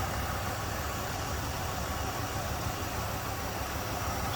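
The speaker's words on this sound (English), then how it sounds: "There's that 5-liter. Tried and true power plant from Ford. Sounds good too." A 1989 Ford Crown Victoria sedan's 5-liter V8 idles smoothly, giving a steady, even engine hum that stays constant throughout with no talking.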